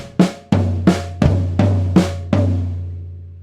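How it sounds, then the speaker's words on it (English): Snare and floor tom struck alone in a slow, evenly spaced pattern, six crisp hits alternating the bright snare crack with the deeper, ringing floor tom, close and clear. "so it starts off with snare, snare, floor tom, snare, and then floor tom,"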